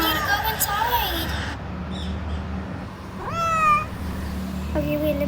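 A stray cat gives a single clear, rising-then-falling meow near the microphone, set against steady outdoor noise, with brief voices and other faint sounds around it.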